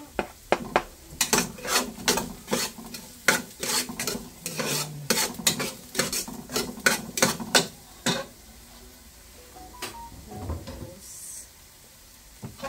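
A utensil scrapes and clanks repeatedly against a pan as spaghetti and carrots are stirred, with quick rhythmic knocks under a faint sizzle. It trails off into quieter shuffling and no one speaks.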